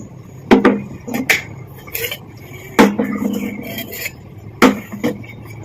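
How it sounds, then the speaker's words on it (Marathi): A liquid Ayurvedic remedy being stirred with a spoon in a vessel, giving several sharp metallic clinks and scraping strokes in irregular bursts, close and fairly loud with no talk. "आता हे बुडवल्यानंतर चमच्याने काय करायचं, हलवायचं"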